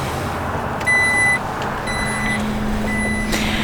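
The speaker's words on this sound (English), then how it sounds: "Again, just your power lift gate." The power liftgate of a 2021 Jeep Grand Cherokee operates with a high electronic warning beep repeating about once a second. A steady low motor hum and ambient outdoor noise run underneath.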